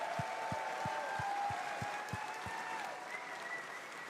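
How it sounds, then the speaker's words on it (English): Steady applause from a TennoCon audience fills the whole stretch, with a few sharp thumps near the start and a faint tonal hum underneath. "So big round of applause to the whole sound team at DE."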